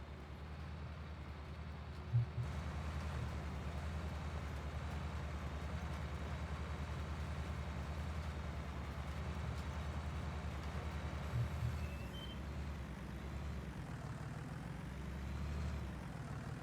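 Tractor engine in Farming Simulator 19 drones steadily with a low, constant rumble that stays close and even throughout, with no talking.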